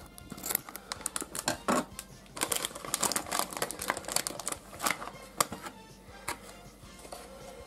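A bag of 2024 Pro Yakyu baseball chips being torn and opened by hand, with crisp crinkling and tearing bursts in an irregular, close-up rhythm, fairly faint and without talk.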